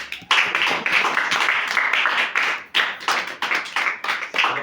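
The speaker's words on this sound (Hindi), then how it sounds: "आप लोग एक बार अपने लिए ही जोरदार तालियां बजाइए" Loud applause from a church audience at a Christmas sermon, many hands clapping energetically in dense bursts, near and sustained with a brief dip midway.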